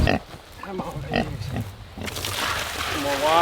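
Pigs on a homestead during a heat advisory grunt and oink near their water, with a splashing, sloshing wash of water in the second half; a person talks intermittently over the animals.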